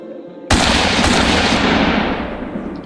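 A sharp gunshot cracks once, loud and close, then a long decaying roar that fades over a couple of seconds, fitting a pistol fired in a duel.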